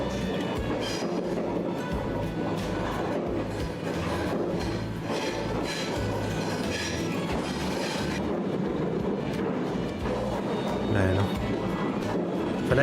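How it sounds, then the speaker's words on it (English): A train on the Baikal Railway rumbles steadily along the rails with rhythmic clickety-clack and occasional wheel squeal, heard from inside, a continuous close, moderately loud rolling noise. "ASMR train sound, let's go."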